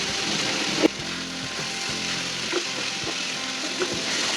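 Boiled chicken fries in a pan with sugar, salt and garam masala, a steady close sizzle with a few soft knocks and scrapes of stirring, and no talking.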